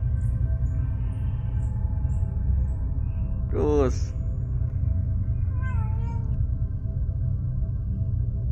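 A house cat at a doorway gives a single rising meow in the middle, with a fainter second meow shortly after, over a steady low background hum.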